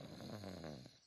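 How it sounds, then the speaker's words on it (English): A cartoon pig snores inside a tent on a camping trip, giving one close, drawn-out rumbling snore that fades at the end. "It sounds like snoring."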